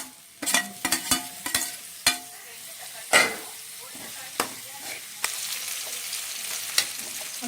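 Tomato added to a frying brinjal curry in oil, with a soft continuous sizzle and a series of sharp clacks and stirring scrapes from a utensil against the pan, close and moderately loud.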